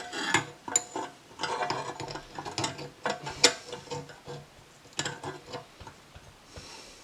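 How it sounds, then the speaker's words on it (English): A mini table saw being assembled by hand, with a string of close clicks, ratcheting snaps and small clattering knocks of parts fitting together in an irregular rhythm, without talk. "It was then time to start assembling the saw, which I must admit I found fairly intuitive."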